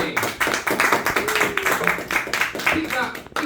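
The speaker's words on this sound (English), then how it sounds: "Keep that applause going for the second act of this section." Pub crowd at a comedy night keeps up a steady round of hand clapping, individual claps distinct and close, while someone speaks over the applause.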